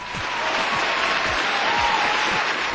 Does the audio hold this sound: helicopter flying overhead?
no